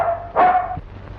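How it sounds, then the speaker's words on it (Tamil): A dog at a house in an old Tamil film gives a single sharp bark, near and fairly loud, amid a faint steady background hum. "ஐயாவை கூப்பிட்டா நாய் குலைக்குது"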